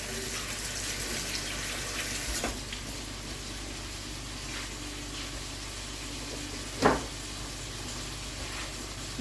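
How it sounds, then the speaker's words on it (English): Tap water runs steadily into a kitchen sink as hands are washed during cooking, a continuous close hiss with a brief splash or clatter partway through. "Wash my hands."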